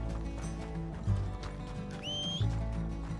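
Horse in the video game Red Dead Redemption 2, with clip-clop hoofbeats and a short neigh over a dense game soundscape, a brief whistling tone partway through, no talk.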